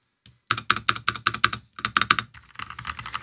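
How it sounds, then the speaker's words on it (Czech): Rapid typing on an ASUS ROG Scope II 96 keyboard: two bursts of soft, close key clicks in quick even rhythm, with a brief pause between them and lighter, quieter keystrokes trailing at the end. "Hlučnost té klávesnice."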